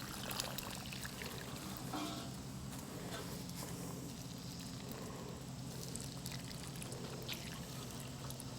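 Water is poured into a garden container during planting, a faint, continuous splash and trickle lasting several seconds with a low background hum.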